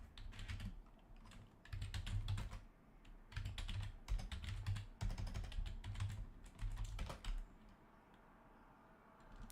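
Typing on a computer keyboard in bursts of rapid clicks separated by short pauses, close and fairly quiet, with no talking.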